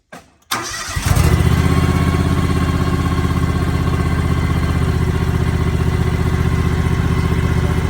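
A John Deere X738 garden tractor's engine cranks briefly, catches and settles into a loud, steady running idle close by, with no talking.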